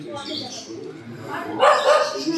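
Dogs fight near a house, with barks and yips breaking out over a person talking; the clash grows louder in the second half.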